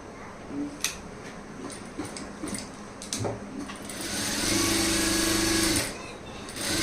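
A sewing machine stitches a seam on lining cloth for Aari work: scattered clicks and handling sounds at first, then a steady, fairly quiet mechanical whirr runs for a couple of seconds before stopping.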